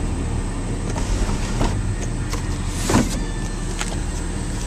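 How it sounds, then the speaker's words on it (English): Power sunroof motor on a 2001 BMW 325i running inside the car, a steady electric whir heard close and alone, with a few faint clicks along the way. "Power roof."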